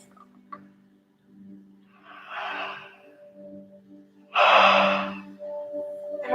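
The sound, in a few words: big yawn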